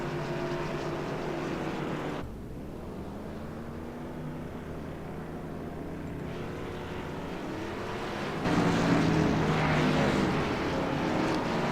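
Race cars pull off pit road at Bristol in a stock car racing game, their engines droning and revving in layered pitches, one car fading away before another louder engine surges in close.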